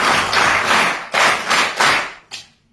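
Students and guests in a school audience burst into applause, a dense wash of many hands clapping that swells, dips and surges again in several waves before fading out.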